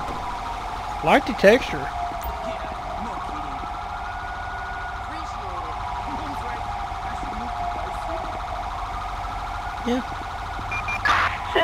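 Emergency vehicle sirens from an ambulance and fire truck in Grand Theft Auto V, a loud wailing tone rising and falling continuously, with brief voices talking over it.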